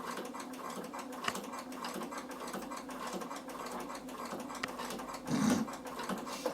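A Bernina sewing machine stitches a linen and lace cushion, its needle running in a steady, even mechanical patter at close range, with a brief louder burst near the end.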